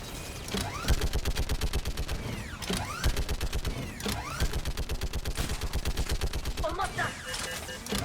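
Rapid bursts of gunfire in the Mass Effect 3 video game, dense rhythmic shots under heavy mechanical, creaking combat noise and music, loud and continuous.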